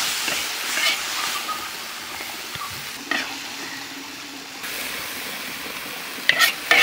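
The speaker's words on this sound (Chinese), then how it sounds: "韭菜下锅" Chives sizzle loudly in a hot wok on a rural Xiangxi farmhouse stove while a spatula stirs and scrapes, with a few sharp clanks near the end.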